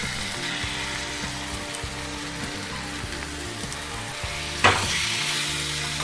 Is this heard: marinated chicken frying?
yes